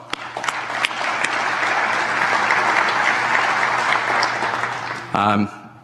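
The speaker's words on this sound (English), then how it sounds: "Let's give him a round of applause" A crowd at a wall of honor dedication ceremony applauds steadily for about five seconds, the clapping dense and sustained before it breaks off into a brief spoken voice at the end.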